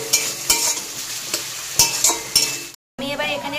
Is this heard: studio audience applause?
no